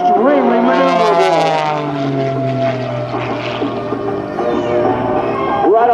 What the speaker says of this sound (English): she brings her extra 300 back in. This is a custom design by Howard Extra from Germany, all composite airframe